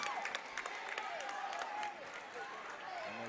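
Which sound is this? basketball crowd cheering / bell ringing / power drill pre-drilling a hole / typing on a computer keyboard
basketball crowd cheering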